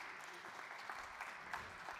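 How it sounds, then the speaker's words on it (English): Applause from an audience at a startup pitch competition, a dense steady patter of clapping hands filling the room at moderate distance, with a few louder individual claps. "Let's please give everyone a round of applause yet again before I announce them."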